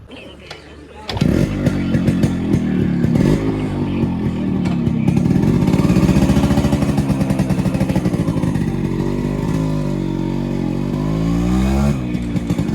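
A completely restored 1987 Yamaha RX 100 motorcycle starts off on a short ride, its engine loud and close, running and revving continuously after a quieter first second.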